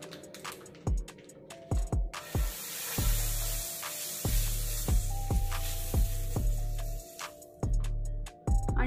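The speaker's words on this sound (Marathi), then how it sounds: "तव्यावरती थोडंसं बटर घालून घेणार आहे मी" Butter sizzles on a hot tawa while a chilli cheese toast is being made, a soft crackling fry broken by sharp clicks and taps of utensils against the griddle, close and fairly quiet.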